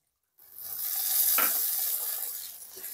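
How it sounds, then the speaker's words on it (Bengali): Water poured into frying masala for egg pepper fry sets off a sudden loud hiss that swells and then settles into a steady sizzle. "1-150 গ্রাম মতো জল দিয়ে দেবো।"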